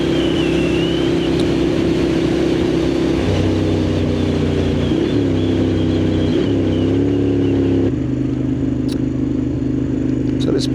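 Moto Guzzi Griso motorcycle engine pulling steadily under load, a loud continuous drone that steps up in pitch through several gear changes, with wind noise throughout and no talk.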